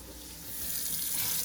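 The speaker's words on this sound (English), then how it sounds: "the sound of water running means that there's no leaks, everything's good" Water runs steadily from a tap through a Survivor Filter Home MAX two-stage filter, a soft, continuous rushing hiss that grows slightly louder over a brief moment.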